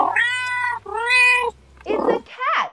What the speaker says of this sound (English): It's a cat, a cat, a cat.